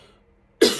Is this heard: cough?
yes